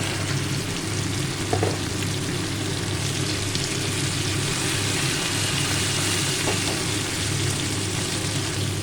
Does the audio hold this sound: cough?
no